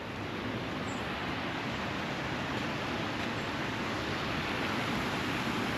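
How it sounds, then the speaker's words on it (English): A small waterfall on a stream at Lake Artemesia rushes steadily, a continuous broadband wash of flowing water heard close and alone. "And we come to the waterfall."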